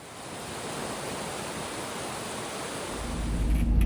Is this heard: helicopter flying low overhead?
no